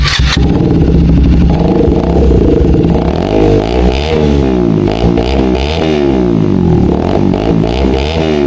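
A KTM Duke 125 single-cylinder with its muffler removed revs repeatedly, loud and close, its open exhaust rising and falling in sharp blips over a rough idle.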